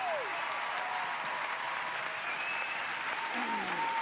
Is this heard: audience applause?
yes